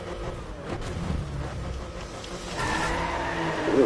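Race car engine in the Driveclub racing game, a loud continuous motor drone that swells and revs harder toward the end, alone without talk.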